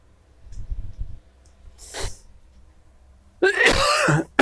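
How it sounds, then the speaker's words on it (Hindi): A few throat-clearing coughs, then a sharp burst near the end, close and fairly loud against a quiet background. "खांसी आ गई थी, माफ करिएगा"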